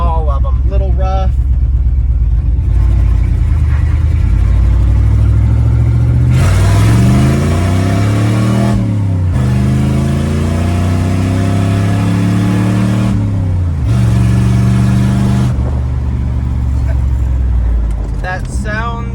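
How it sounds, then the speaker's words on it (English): An old Chevrolet C1500 OBS pickup with a carburetor revs up loud and close, pitch climbing in repeated rising sweeps with short drops between, a rough idle rumble underneath. "the carburetor's pretty smooth on this old truck"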